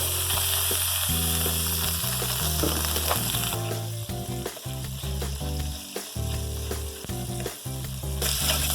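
Flour cooking in butter and sausage drippings sizzles steadily in a pan, a loud continuous fry with bursts of crackle and a few stirring scrapes, no voices.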